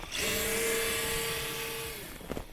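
Traxxas TRX4 Sport RC crawler on tracks, fitted with a brushless 2800 kV motor and 18-tooth pinion, run at full power: a loud, close, high electric whine that holds steady for about two seconds, then cuts out into rattling.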